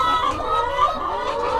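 Hens clucking inside a new nesting box in a backyard coop, a steady close chorus of overlapping clucks and murmurs with no talking.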